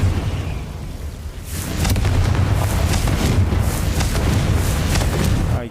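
A Confringo blasting spell explodes in a video game, a loud broadband boom that swells after a quieter opening and then holds as a sustained roaring rumble with crackling bursts for several seconds.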